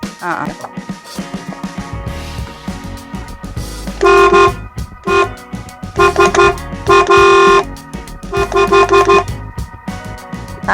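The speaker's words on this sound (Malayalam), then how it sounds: "ജാൽവ ഹോണാണ് കേട്ടോ ഇതില് സെറ്റ് ചെയ്തിരിക്കുന്നത്." A Jalva horn fitted to a 1994 Premier Padmini Fiat car sounds in a series of loud, close, brassy honks of uneven length, some short and some held, separated by brief gaps and quieter background noise.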